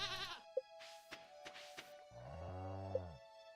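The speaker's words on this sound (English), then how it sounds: "Did I pet this goat?" A goat bleats in a video game, a short nasal cry followed by a longer wavering bleat, close and clear, with small clicks in between.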